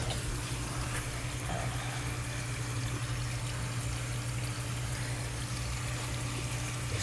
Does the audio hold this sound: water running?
yes